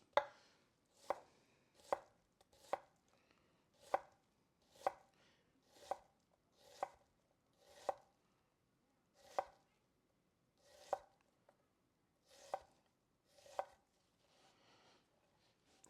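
A sharp knife chops through vegetables on a cutting board, striking about fourteen crisp, evenly spaced cuts that come in clear, separate knocks with quiet gaps between them, close and alone.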